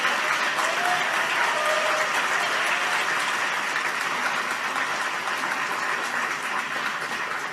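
After a keynote speech at a 2017 youth assembly, a large audience gives sustained, even applause, a dense and slightly distant roar of clapping that holds steady throughout.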